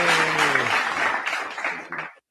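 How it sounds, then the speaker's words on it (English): Canned applause from a studio sound button at a live podcast taping: a dense burst of clapping and light cheering lasting about two seconds, loud and steady before cutting off abruptly. "Do we have the applause button there? Yeah, we need some applause here."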